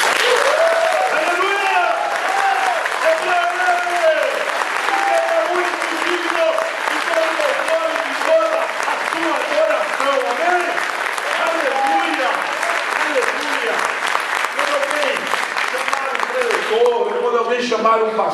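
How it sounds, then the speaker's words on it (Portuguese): A church congregation applauding, dense sustained clapping that continues at full strength throughout, with voices and tonal sound audible over it. "Então eu queria que você aplaudisse ao Senhor."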